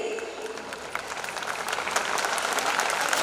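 Audience applause, a dense crowd of clapping hands that swells steadily louder over a few seconds.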